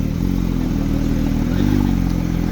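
At a car gathering in Milan, a Speedster sports car with a GT3 engine runs at a steady, close, throbbing idle, a low rumble with a light mechanical clatter and no voices.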